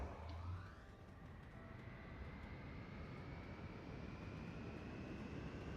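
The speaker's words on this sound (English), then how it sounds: "I just love the sound of those engines when they start up." Airship engines start up in the video game Worlds Adrift, a rising whine climbing within the first second into a steady, sustained droning hum with a faint tonal pitch over it.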